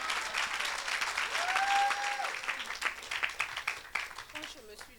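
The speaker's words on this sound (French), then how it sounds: "Acclame plus fort que ça." A church congregation breaks into steady applause, a dense wash of many hands clapping at moderate distance, with a sustained vocal cry rising over it midway and scattered claps thinning toward the end.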